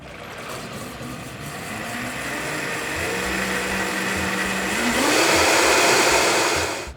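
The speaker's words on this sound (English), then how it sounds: "Start blending now on low." A Vitamix blender whirs steadily on low through an acai berry smoothie, a loud close motor drone that rises in pitch and intensity near the end as the blades speed up.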